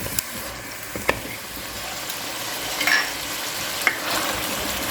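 Beef pieces, softened beforehand, sizzle in a pot with spices while being stirred over medium heat for a biryani, giving a steady close frying hiss broken by a few sharp utensil scrapes and clinks.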